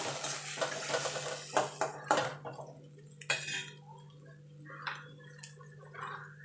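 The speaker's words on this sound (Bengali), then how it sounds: "টমেটো আদা রসুন একসঙ্গে কষিয়ে নেব" Tomato, ginger and garlic sauté together in a pan: a spatula clinks and scrapes against the metal in scattered strokes over a faint sizzle and a low steady hum, with no talk.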